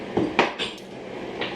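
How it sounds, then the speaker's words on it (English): Dishes being unloaded from a home dishwasher, a few sharp clinks and clatters of plates and cutlery at close range in a quiet kitchen, spaced irregularly with no talk. "I'm going to empty my dishwasher"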